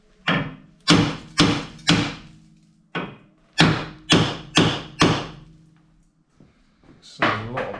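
Rusty Torx grub screws on a Vauxhall Corsa SXi 1.2 front brake disc are struck with a hammer in sharp, close metallic taps, mostly in quick groups of three or four, with a brief pause before a final flurry.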